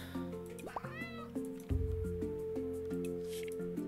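A cat meows a few times in the video game Roots of Pacha over light, plinking game music, the meows short and close, followed by soft squishy game sound effects.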